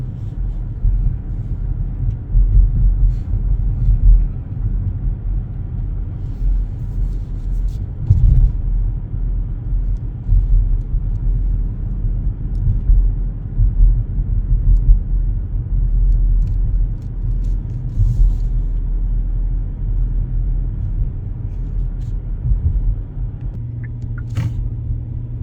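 Car rolling steadily along a narrow country road, a continuous low engine and tyre rumble that stays even throughout with no talk, only a brief bump near the end.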